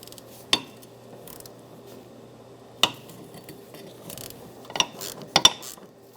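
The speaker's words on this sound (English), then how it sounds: "with a 13mm socket and extension, I'm going to get up and take the two top mount nuts off of that rear shock" A ratchet with a 13mm socket and extension works loose the top mount nuts of a rear shock absorber on a 2009-2014 Nissan Maxima, heard as a few sparse, sharp metallic clicks spread out against a quiet background.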